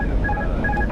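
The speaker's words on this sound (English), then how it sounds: "so we can actually disconnect the autopilot" Autopilot disconnect warning of a Toliss Airbus A319 in the X-Plane flight simulator: a short, repeating electronic chime of alternating high tones, clear and close over a low cockpit hum.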